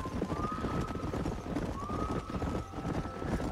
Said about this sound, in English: Oh, horses! Horses!